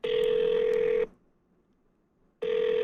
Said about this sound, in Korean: 형한테 전화하자